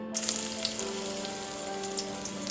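Garlic sizzling in a hot pan, a steady close frying crackle with faint stirring and a soft tonal hum underneath.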